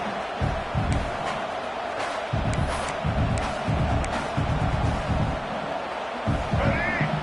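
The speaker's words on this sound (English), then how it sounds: "This crowd is trying to inspire this defense to make a big red zone stop." A stadium crowd in an American college football video game roars steadily for a red zone defensive stand, a loud, dense wall of cheering with sharp swells and shouts throughout.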